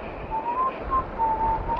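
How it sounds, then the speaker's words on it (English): A person whistles a thin, wavering tune in short phrases over a faint background hiss. "shut up that whistling"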